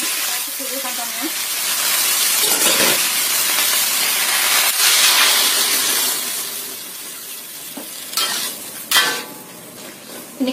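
Tofu and coconut milk are stirred in a pan, giving a steady hiss and bubbling simmer, broken by a few scrapes and knocks of the utensil against the pan near the end.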